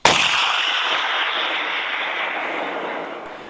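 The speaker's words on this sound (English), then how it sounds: "we got to Michigan and started firing the cannons" A 24-pound ship's cannon fires once, recorded in Michigan: an abrupt loud blast followed by a long, bright rolling decay with a ringing, bell-like tail that fades over about three seconds, with no voices.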